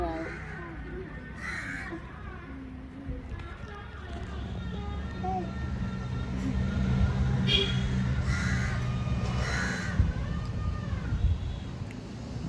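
A crow caws a few times near a temple where a wedding is underway, sharp calls standing out over ongoing talk from an adult and children and a low outdoor background.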